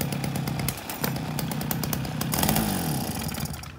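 A small two-stroke grass cutter engine runs close and loud, buzzing steadily with a brief dip and rev in pitch near the end.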